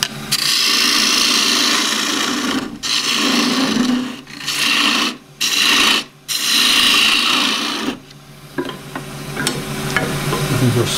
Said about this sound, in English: my 3/8 bowl gouge. Just use the left wing first to just screw up the surface.